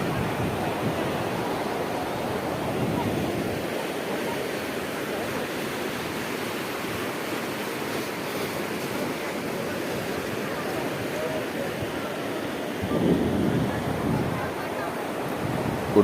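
Sea waves wash steadily onto Digha beach at Mohona under a rising tide, a continuous broad surf roar with wind, swelling slightly louder near the end, no voices.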